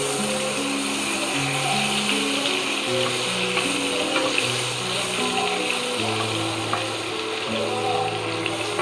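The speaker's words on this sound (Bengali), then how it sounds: "সাদা তেলের মধ্যে আমি বাটারটা দিয়ে দেবো।" Butter sizzles as it goes into hot white oil in a wok while Nawabi paneer is being made, a steady broadband frying hiss that lasts throughout under sustained low background music.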